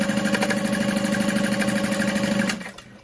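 A sewing machine runs steadily while stitching two parallel lines of 4.5-length back stitch on a Betsy Bowler bag, its rapid regular mechanical clatter close and continuous before stopping near the end.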